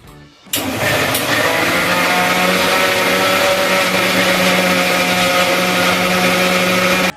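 A mixer grinder blends Marigold biscuits, milk and sugar for pudding, kicking in after a half-second of quiet and then whirring at a loud, steady pitch before it cuts off abruptly.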